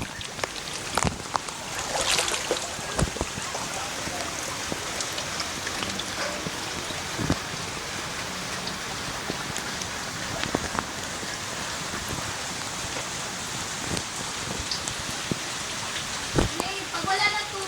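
Steady rain hiss during typhoon flooding, with scattered drips and patters close by and occasional water sloshing, fairly quiet and continuous throughout.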